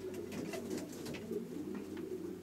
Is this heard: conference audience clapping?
no